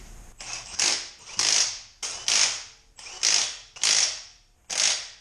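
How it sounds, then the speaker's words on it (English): A torque wrench ratchets on the axle nut of a Ford Bronco during a leveling kit install, tightening it to 221 foot-pounds: six close, loud bursts of ratcheting clicks at a steady rhythm, with short pauses between strokes and no talk. "I can torque the axle nut to the 221 foot-pounds specified by the instructions"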